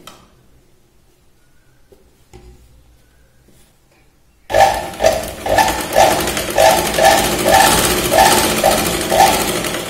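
A sewing machine stitches a princess-cut blouse seam at the waist, joining the main fabric and lining. The motor starts abruptly after a quiet stretch, then runs loud and close in steady pulsing bursts.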